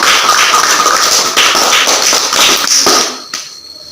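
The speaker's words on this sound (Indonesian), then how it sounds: "Kita kasih aplaus buat teman kita yang sudah." A classroom of students applauds together, a dense burst of many hands clapping loudly that runs for about three seconds before trailing off into a few scattered claps.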